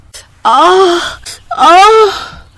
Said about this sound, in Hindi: तभी उसे गुड्डी के चीखने की आवाज आई।